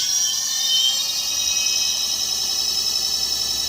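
The motor of a Moto G-One electric motorcycle fitted with a YuyangKing conversion kit whirs in first gear, a steady high-pitched whine held close and constant with no talking.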